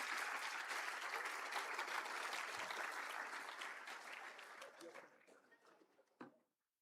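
An audience at a formal gathering applauds to welcome a guest, a dense round of clapping that holds steady and then thins out and stops.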